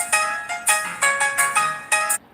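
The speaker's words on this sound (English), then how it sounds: "I'm getting a phone call, and they won't stop if I don't answer" A phone ringtone chimes through an incoming call, bright repeated electronic bursts pulsing about every half second, loud and close with no talking, stopping abruptly at the end.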